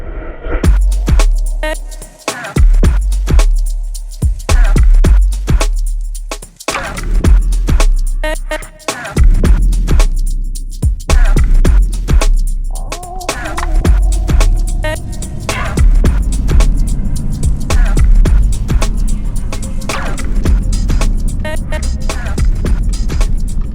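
A car driving on the road with a steady engine and road rumble inside the cabin, broken by clicks, knocks and rattles from the interior, with no one talking.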